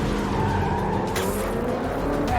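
A car chase in the Marvel's Spider-Man 2 video game: close, loud engine roar with tires skidding and squealing throughout, alone without talk.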